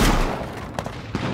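AK rifle gunfire in H1Z1 cracks in a few quick, loud shots over a dense rumbling background, with no voices.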